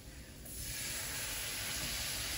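Flour sautéing in a pan for a mushroom piccata gives a steady soft sizzle and hiss that swells in after a quiet start and holds evenly, close and fairly faint, with no talking.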